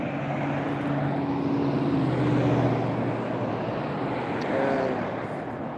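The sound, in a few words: road traffic noise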